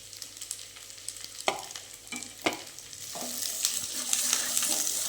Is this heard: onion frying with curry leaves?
yes